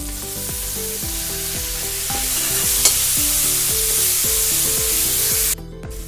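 Tomatoes and curry leaves fry in a pan for a mutton trotters curry, a steady loud sizzle running under repeated stirring strokes, with one sharp tap near the middle before the frying cuts off abruptly near the end.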